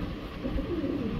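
Pigeons of a Stellar bloodline imported directly from the Netherlands coo softly in low, murmuring bursts, a close, steady cooing with no talk over it.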